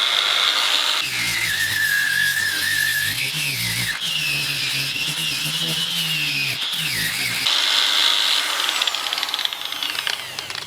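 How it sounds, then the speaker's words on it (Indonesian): An NRT PRO 9750 variable-speed angle grinder set to speed 2 sands wood, its motor whining steadily and loudly nearby while the pitch dips and rises as the disc loads against the surface, with no talk. "Sekarang kita coba mengamplas ya. Kecepatan di 2."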